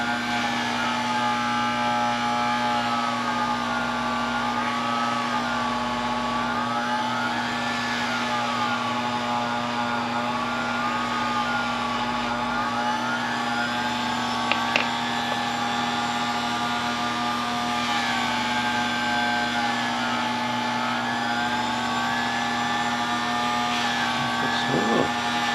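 Wooden bat rings are polished on a spinning machine, making a continuous loud motor hum with a steady whine that wavers slightly, with faint scraping ticks near the end.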